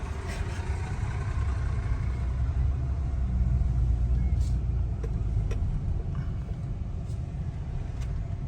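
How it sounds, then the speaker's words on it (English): A purple garbage truck passes on a foggy seaside street in Old Orchard, Maine, its engine rumbling steadily and fairly loud for the whole stretch, with faint clicks over the drone. "Don't ever see a purple trash truck very often."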